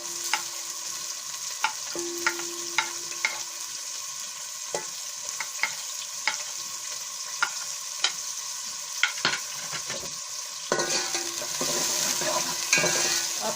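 Onions fry in hot cooking oil for a kali mirch gosht salan, a soft continuous sizzle broken by regular clinks and scrapes of a stirring spoon against the pan, growing busier toward the end.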